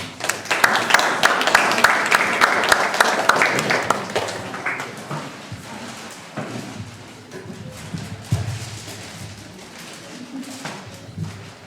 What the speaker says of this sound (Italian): Przywitajmy wykonawców gromkimi brawami.